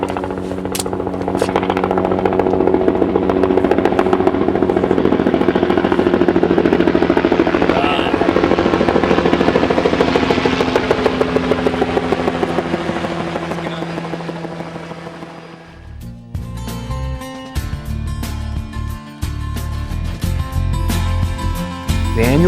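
A helicopter arrives for a flight, its rotor and engine making a loud, thick, pulsing roar close by for about fifteen seconds, before the sound changes to a harsher, clattering mechanical rattle.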